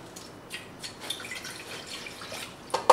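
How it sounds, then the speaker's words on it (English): Water trickles and splashes softly into a cooking pot for dumpling and wonton soup, faint and close, with a few louder drips near the end. "So right now I'm just adding some water."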